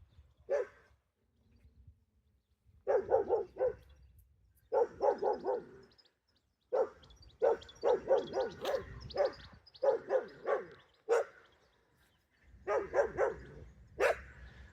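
A dog barks repeatedly at a distance on a foggy day, with bursts of several barks separated by short pauses, clear and fairly loud against a quiet outdoor background.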